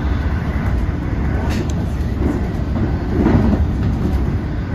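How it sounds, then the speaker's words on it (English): Onboard an LIRR M3 electric train crossing Rocky Interlocking near Rockville Centre: a loud, steady rolling rumble with soft thumps from wheels crossing track joints. "Soon we'll be thumping over Rocky Interlocking."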